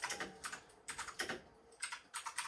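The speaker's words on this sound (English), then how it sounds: "Yeah, you're hearing my keyboard. That's my keyboard. My very loud mechanical keyboard." Loud clacking of a mechanical computer keyboard, typed in several quick bursts of rapid keystrokes separated by short pauses, close up with no talking.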